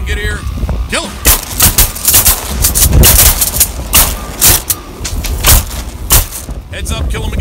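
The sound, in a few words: shotgun shots at sea ducks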